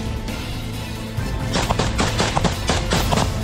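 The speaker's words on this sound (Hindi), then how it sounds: "इसमें यूक्रेन की स्पेशल फोर्स मशीन गन से गोलियां चलाते हुए आगे बढ़ रही है।" Rapid bursts of machine gun fire from Ukrainian special forces during a counter-attack in Bakhmut, loud and close, with repeated sharp reports that grow denser and more continuous partway through, over a constant rumbling background.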